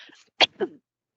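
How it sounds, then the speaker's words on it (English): A short throat clearing, two quick rough bursts, close and fairly loud, followed by silence. "I just have to clear my throat."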